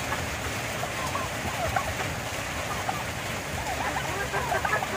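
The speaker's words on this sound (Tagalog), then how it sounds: "masarap paligo sa ulan." Steady rain patters and hisses in a continuous wash, with faint voices murmuring underneath.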